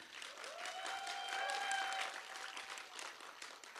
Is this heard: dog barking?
no